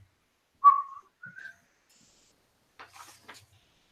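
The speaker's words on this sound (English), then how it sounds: "Whistling into a microphone is bad." A few short whistled notes close to the microphone, a rising pair then a brief breathy flutter, with silence in between.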